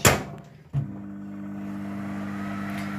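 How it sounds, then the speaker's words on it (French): A microwave oven heating crème fraîche in a home kitchen starts with a click and then settles into a steady, close electrical hum. "Donc là, je vais mettre au micro-ondes ma crème"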